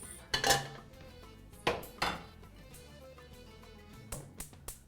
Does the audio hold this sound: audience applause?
no